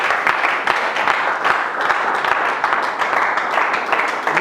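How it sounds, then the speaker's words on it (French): An audience at a Christian doctrinal conference on women in ministry applauds loudly and steadily, a dense wash of many hands clapping close and continuous, with faint voices mixed in. "On acclame très fort pour..."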